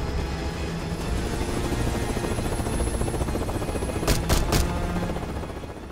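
Helicopter in the Call of Duty Black Ops 6 campaign drones with a steady low rotor throb and whine, loud and close, joined late by a quick burst of three sharp gunshots.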